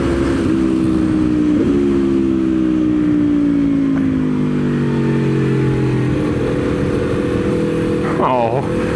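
A 2023 Aprilia Tuono V4 motorcycle accelerates on a race track. The loud engine whine rises and holds through the gears, with wind rush, and excited speech can be heard over it.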